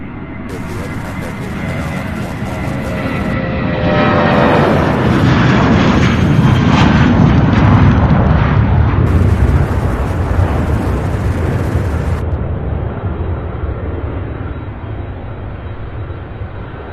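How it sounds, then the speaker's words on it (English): A United Airlines Airbus A321, eight years old, flying in from LAX to land at Louisville International Airport, roaring loud and steady as it passes close, swelling then easing over about seventeen seconds. "Flight 890 out of LAX coming in for a landing in an 8-year-old A321."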